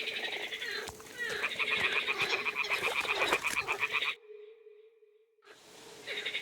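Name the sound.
toads croaking in video game Kingdom Come: Deliverance II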